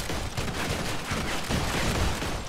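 Rapid gunfire from Modern Combat 5 rattles without pause, dense overlapping shots filling the short stretch at a steady, fairly loud level.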